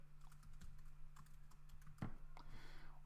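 A name being typed on a computer keyboard: quick, light key clicks in an uneven run, close and fairly soft, with a steady low hum underneath.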